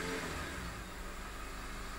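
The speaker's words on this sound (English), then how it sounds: "That engine sounds spot on." Petrol engine of a Honda CR-V rated at 150 brake horsepower, running steadily with a smooth, even hum heard close up; no voices.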